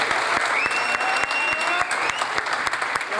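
Enthusiastic audience applause welcoming a guest onto the stage, dense continuous clapping from a crowd, close and loud for the whole stretch.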